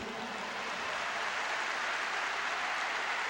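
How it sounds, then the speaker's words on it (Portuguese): A church congregation applauds during a sermon, producing a dense, uniform hiss of many hands clapping together, steady and unbroken from start to finish. "aplauda ao Senhor pela vida desse homem"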